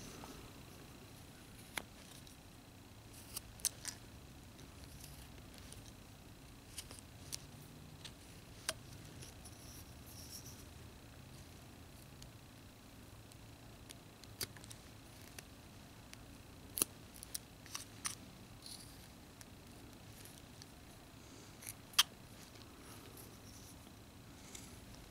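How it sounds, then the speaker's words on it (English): A knife whittles a small one-inch wooden block, making sparse, sharp little cuts and scrapes scattered irregularly over a quiet, faint background. "I'm going to cut some more, just dig in a little bit deeper to give me more leverage."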